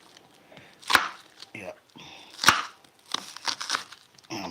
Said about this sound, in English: I'm chopping up the yellow onion.